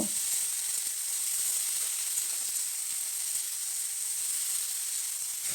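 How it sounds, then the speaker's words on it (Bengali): Cut potatoes frying in mustard oil with dried chillies and five-spice seeds, a steady close sizzle and hiss that holds evenly throughout with no talking. "আলুগুলো আমি 2 মিনিট মতো ভেজে নেব।"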